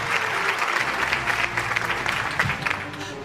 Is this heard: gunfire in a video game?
no